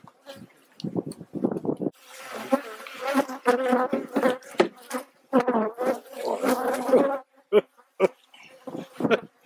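Honeybees buzz loudly and close by around a beekeeper during a honey harvest, with a dense droning hum that swells and dips as insects fly around, broken by brief rustling gaps.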